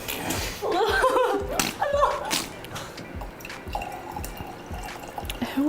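Sparkling wine is poured into a cocktail, with fizzing, splashing bubbles and a few wet drips and pops, while a voice speaks briefly near the start.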